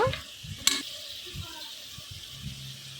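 Camel curry stirring and frying in a pan: a soft steady sizzle with a sharp scrape of the spoon early on, while a person speaks quietly over it in short phrases.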